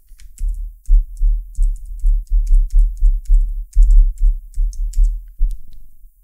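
Typing on a computer keyboard at close range, a steady run of soft, rapid key clicks and thumps in uneven bursts for several seconds, alone without talk.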